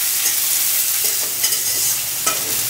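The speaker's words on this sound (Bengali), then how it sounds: "পেঁয়াজটা একটু ফ্রাই করে নিই।" Onion frying in hot oil for a masala egg curry sizzles steadily while being stirred, with occasional scraping stir strokes rising above the continuous close crackle and no voices.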